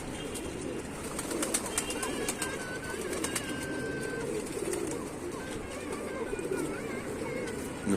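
Pigeons in a loft coo and call steadily, close and continuous, with occasional sharper chirps and brief wing flutters over a dense flock murmur.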